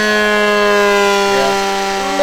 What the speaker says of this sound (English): A little bit obnoxious, the sound when you're going full power.